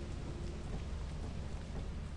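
Steady rain pours down on a planet in the video game Lethal Company, a dense, continuous hiss with a low rumbling undertone, loud and close throughout with no talking.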